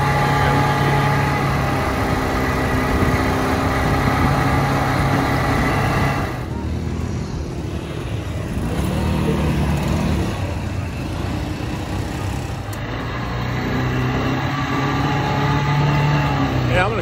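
ATV engine idling and running steadily in Cappadocia, a loud continuous mid-pitched drone that holds throughout, with people talking over it.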